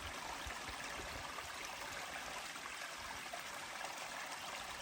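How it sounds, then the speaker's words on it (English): A small brook on the A to Z mountain trail flows with a continuous soft rushing and trickling, heard up close and steady, with no voices. "a brook."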